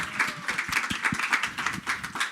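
A small crowd claps enthusiastically, a quick burst of overlapping hand claps that stays fairly steady for a couple of seconds.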